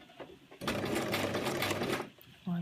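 A sewing machine runs at a steady fast whirr for about one and a half seconds while stitching a fabric sensory maze cuff, then stops, with brief talking before and after.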